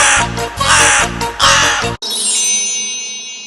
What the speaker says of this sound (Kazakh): Қарға, қарға, қарғалар, қар үстінде жорғалар.